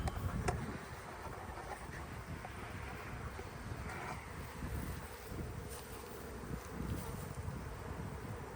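Honeybees buzz around an open beehive in a steady, droning hum close to the microphone, with light wind noise and a few sharper passes of individual bees.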